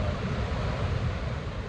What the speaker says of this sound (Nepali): जताततै चारैतिर झरना भन्दा केही छैन, कति ठुला झरना हुन्